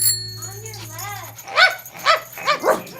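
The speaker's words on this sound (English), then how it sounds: "Took Black Francis to the dog park." A dog barks at a lakeside dog park, giving four short, sharp barks in quick succession, close and moderately loud, after a quieter opening with faint whimper-like sounds.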